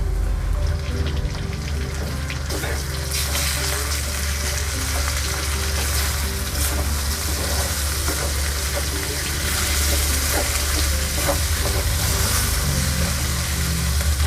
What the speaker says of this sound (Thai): ให้เราใส่หมูบดลงไปได้เลยค่ะ หมูบดที่เราเตรียมไว้นะคะ